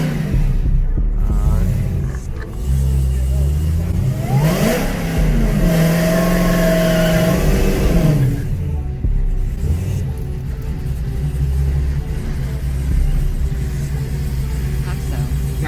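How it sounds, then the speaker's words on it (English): A supercharged Chevrolet Caprice doing a burnout: a heavy engine rumble rises into a loud, sustained rev that climbs, holds and drops back to a throbbing idle, close by, with voices mixed in. "You do a burnout? Do a burnout."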